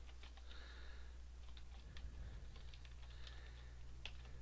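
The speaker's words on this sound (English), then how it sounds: "I type in fee, follow it by a colon." Someone types a formula into an Access 2010 query on a computer keyboard, producing quiet, scattered key clicks in short bursts over a faint steady hum, with no talking.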